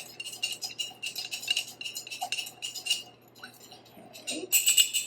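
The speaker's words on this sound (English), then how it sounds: "So I'm going to mix that up, stir it up really well." Half a pound of macaroni is stirred in a bowl with a utensil, making light, repeated clinks and scrapes that run steadily throughout with no talking.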